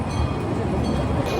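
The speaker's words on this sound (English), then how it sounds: "We're going through on the train" Continuous low rumble of a small ride-on train rolling through an amusement park, steady and fairly loud with no voices over it.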